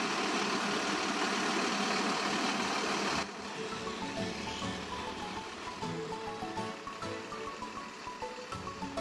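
Front-mounted engine of a Mercedes Benz 1623 bus idling, a steady low rumble with a rattling chug, loud at first and then quieter and more distant over rustling cabin sounds, with no talk.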